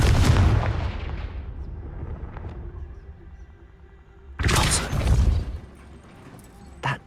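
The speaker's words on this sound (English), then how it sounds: "Perhaps something with a bit more force." An explosive Confringo spell blasts in the Hogwarts Legacy video game: a loud boom at the start that rumbles away, then a second heavy blast a few seconds later, with a short thump near the end.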